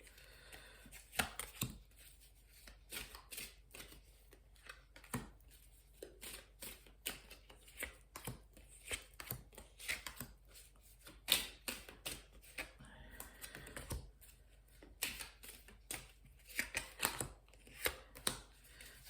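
Tarot cards being handled and drawn give off a run of crisp, quiet taps, flicks and shuffling rustles in irregular bursts, close to the listener, with no talking over them.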